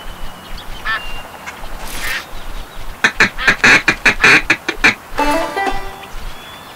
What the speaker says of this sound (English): Quack, quack. I think I hear them.